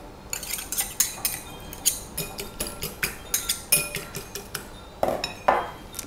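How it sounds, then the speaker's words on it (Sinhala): Eggs being beaten in a bowl for savoury waffle batter: quick, irregular clinks of a utensil against the bowl, close and crisp, alone without talk. "අපේ බිත්තරේ බිත්තරේ පොඩ්ඩක් බීට් කරගමු"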